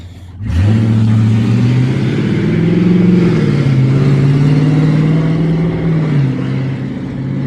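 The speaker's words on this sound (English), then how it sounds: "Truck is way too damn loud." A loud truck engine starts up close by and rumbles steadily, its pitch rising and shifting as it revs, then easing off near the end.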